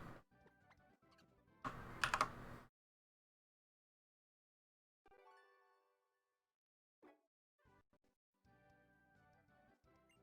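Quick bursts of typing on a computer keyboard during a typing speed test, with close, rapid key clicks separated by silent pauses.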